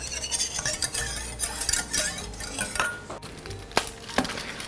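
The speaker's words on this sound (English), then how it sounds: "So now you're just going to melt your chocolate into your milk. Just kind of whisk it" Whisking chocolate pieces into milk for white hot chocolate, with steady clinking and scraping of a whisk against a pot, quick irregular strokes close by.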